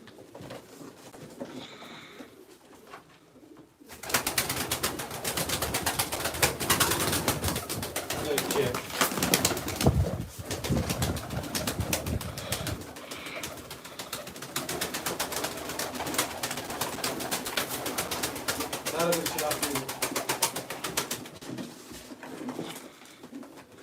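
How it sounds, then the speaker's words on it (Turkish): A flock of Iraqi pigeons coos continuously nearby, with fluttering and shuffling, some voices murmuring faintly underneath. "Irak kuşları bunlar abi"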